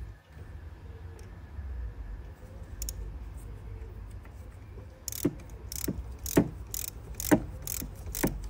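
A ratchet tightens an injector bracket bolt on a Citroen or Peugeot engine, with sparse clicks that give way to a steady run of sharp ratcheting strokes, close up and without speech.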